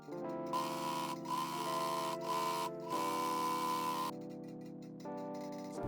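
A sewing machine top stitching a seam on a cosplay flight suit shirt, a loud steady mechanical whir running close up with brief stops and restarts.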